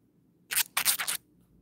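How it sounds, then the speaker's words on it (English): A dog scratches at a phone in three quick broadband scraping bursts, close and fairly loud, with quiet room noise before and after. "Oh, he's scratching the phone."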